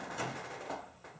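Scraping against the metal body channel behind the windshield weather strip of a 1972 Chevrolet K25 truck, two or three rough, close scrapes over a steady background.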